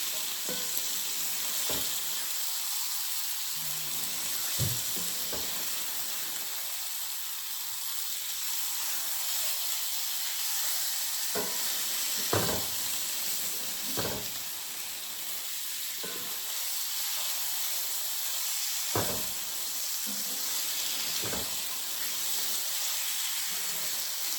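Meat for Mulligan stew sizzles steadily as it browns in a hot pan, a continuous close frying hiss broken by occasional sharp clicks and scrapes as pieces are flipped.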